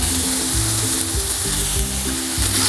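Chicken masala samosa filling sizzles steadily in a pan while being stirred, with continuous frying hiss and periodic low scraping strokes, close and fairly loud with no voices.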